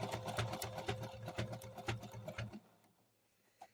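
A sewing machine stitches in a fast, steady mechanical rhythm for a couple of seconds, then stops, leaving near silence with one faint click.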